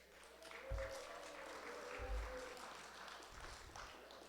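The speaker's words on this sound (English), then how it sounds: "let's have a round of applause for the cooks who prepared our meal tonight" An audience at a dinner event applauds the cooks who prepared the meal, heard as faint, distant, steady clapping that lasts a few seconds.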